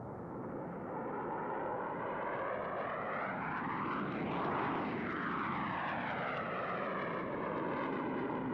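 Four precision jet aircraft roar past in tight formation at the Reno airshow, a loud continuous engine rush whose pitch sweeps up and then down with a clear Doppler shift as they pass, peaking near the middle.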